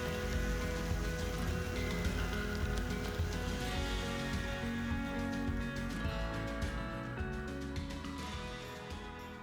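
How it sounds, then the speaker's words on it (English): Steady rain pours during a rare desert storm in the Australian outback, heard close and constant for the whole stretch with no voices. "getting some rain and witnessing a rare desert storm"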